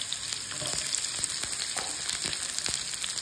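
Onions fry over low heat in a pan, a dense, even sizzle crackling throughout with scattered popping spits, close and loud, with no voices.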